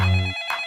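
A telephone rings for an outgoing call, a single short burst of electronic ringtone that cuts off after about a third of a second, followed by quiet line noise.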